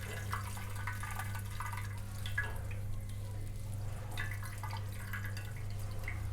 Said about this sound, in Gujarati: પ્રેસ કરીને પાણી કાઢી લઈશું।